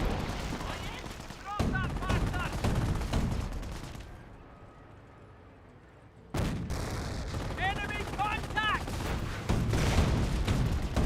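Gunfire and heavy artillery booms from a Company of Heroes World War II battle, with a Panzer tank under attack by commandos; dense bursts of shots and blasts, a brief quieter lull midway, then renewed firing with high whistling tones.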